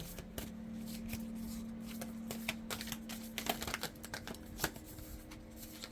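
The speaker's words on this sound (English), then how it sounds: "there's a couple that flipped, so let me, that was a few too many. Give it another shuffle." A deck of tarot-style pick-a-card cards is shuffled by hand, giving close, quiet riffles and soft rapid flicks with sharper slaps near the end while a steady faint hum sits beneath.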